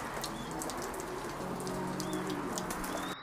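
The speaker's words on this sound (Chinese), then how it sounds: "今天下雨了。" Steady rain falls outside a pigeon loft as a dense, even hiss of drops, with faint pigeon calls now and then behind it.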